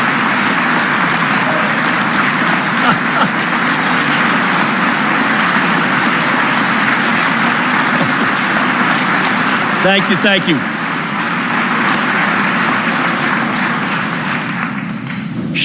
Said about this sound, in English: Shamelessly fishing for applause up here.